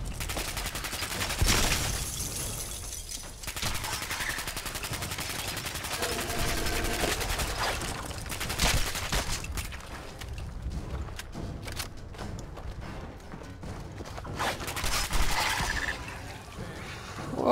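Rapid bursts of gunfire from the player's gun crackle repeatedly in Fallout 4, loud clustered volleys with brief pauses across the whole stretch, mixed with clanking game sounds.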